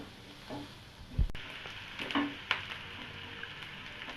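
Ginger-garlic paste sautéing in a pan, a soft continuous sizzle broken by scraping stirs and a sharp clack of a spoon against the pan, moderately quiet with no talking.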